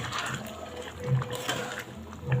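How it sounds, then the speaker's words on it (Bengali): Hot water poured into a pot of meat curry, a short, fairly quiet liquid splash and trickle over a soft background hiss. "তো জল গরমটা এর মধ্যে ঢেলে দিলাম"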